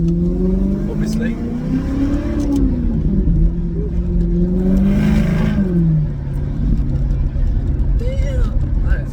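A Maserati GranTurismo S fitted with sport cats and silencers revs up and down several times, its engine note rising and falling loudly and close by, with a voice heard at times.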